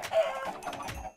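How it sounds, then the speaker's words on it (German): Short clucking from Minecraft chickens, a few quick soft calls in a brief burst, fairly close and with no talking. "Ich geh mal ein paar Hühner töten"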